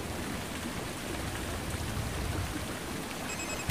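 Steady rain falling at night in the video game République, a continuous soft hiss of drops with no voices, holding at an even level throughout.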